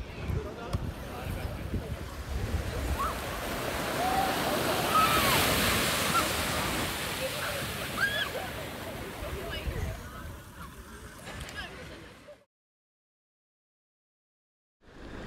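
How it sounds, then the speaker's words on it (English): Ocean surf washes steadily onto a beach in Tenerife, a broad continuous rush mixed with wind buffeting the microphone, before cutting to near silence at the end. "Time to get in the ocean."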